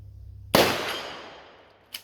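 Single sharp rifle shot from a bolt-action AR fired at an 8-inch steel swinger at 100 yards, a loud crack with a long decaying echo, followed about 1.4 seconds later by a fainter report.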